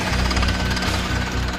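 A heavy drill hammers and grinds steadily while coring through extremely hard rock at the Grand Canyon Skywalk site, a loud, dense, rapid pounding that carries on without pause.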